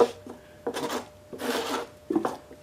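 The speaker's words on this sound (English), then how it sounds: "I just cleaned it up a little more with the cheese grater" A cheese grater scrapes over the surface of a homemade overhead-valve Briggs engine part in three short, rough rasping strokes with pauses between them, close and moderately loud.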